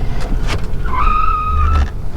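A 1996 Chevy Caprice Classic brakes hard, giving a sustained squeal for about a second over the rumble of road and engine, with no talking.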